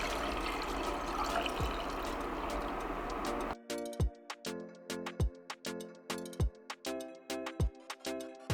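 Water for a homemade tonic syrup pours steadily into a pot for about three and a half seconds, then stops, leaving a run of sharp ticking clinks and knocks at an uneven pace.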